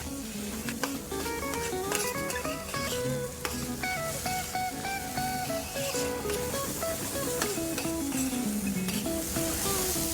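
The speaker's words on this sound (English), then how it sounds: "We must keep stirring so that the rice does not stay in the same place and does not burn on one side." Rice frying in a lobster paella pan while being stirred, a steady sizzle with scraping turns over dense background music that plays throughout.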